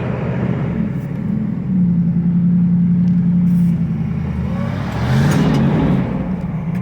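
A carbureted 1983 Chevrolet Camaro, started cold after sitting over a month, idles with a steady low rumble that swells and eases in a couple of slow surges, close and continuous.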